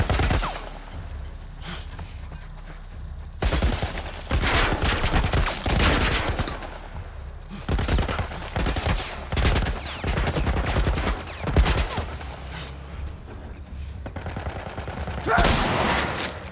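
Bursts of loud gunfire in The Last of Us Part I, with clustered rapid shots in several separate volleys broken by brief quieter pauses.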